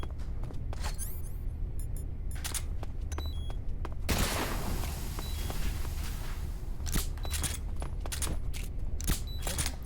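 Gunfire in Metal Gear Solid rings out in repeated bursts, sharp cracks clustered in volleys across the stretch, with a heavier blast in the middle and steady game ambience underneath.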